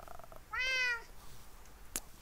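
A cat in Minecraft gives a single clear, fairly short meow, followed by faint background game sounds and a brief click.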